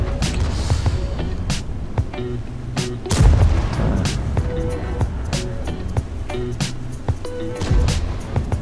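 Repeated heavy tank cannon blasts in World of Tanks, sharp booms every second or so over rumbling engine noise, with a tonal game sound in the background.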